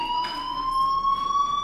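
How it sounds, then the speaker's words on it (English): A fire alarm in the video game Life is Strange, a steady high electronic tone that rises slightly in pitch and rings loudly without pause. "Hey, do you hear that fire alarm?"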